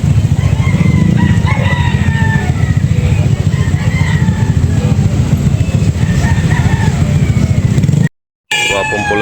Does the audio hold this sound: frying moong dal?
no